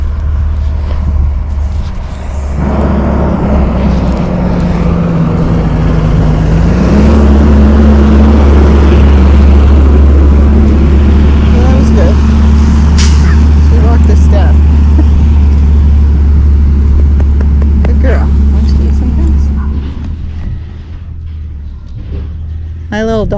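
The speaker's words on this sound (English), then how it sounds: "it sounds like that garbage truck is coming again." A heavy garbage truck engine rumbles loudly, rising to a sustained low roar for most of the clip, then fading away as the truck passes.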